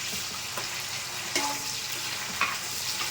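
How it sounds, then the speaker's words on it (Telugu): Tomatoes frying in a pan for a 1 kg chicken biryani give a steady close sizzle throughout, with a couple of sharp stirring scrapes and clinks. "టమాటా కొంచెం సాఫ్ట్ అయ్యేంత వరకు వేయించుకోవాలి"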